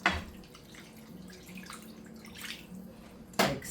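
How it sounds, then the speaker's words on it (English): Water splashing into a bubbling one-pot dinner of chicken, rice and black-eyed peas, with brief pouring bursts at the start and near the end over a soft simmer, close by with no voices. "So I'm going to start throwing a little water in there"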